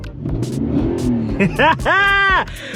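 A 2019 Nissan Titan pickup truck engine rumbles and revs after a crankshaft sensor replacement, rising in pitch toward the end, heard close up with some background noise.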